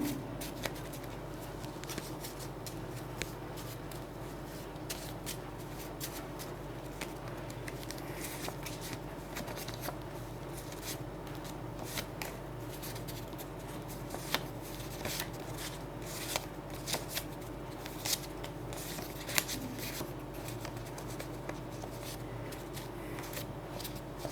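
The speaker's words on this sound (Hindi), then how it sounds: "एक्चुअली कुछ कार्ड्स प्लेन आ गए तो मैं उन्हें अलग कर रही हूँ।" Tarot cards shuffled and sorted by hand, a close, continuous soft riffling and flicking with occasional sharper slaps over a steady background hum, with no voices.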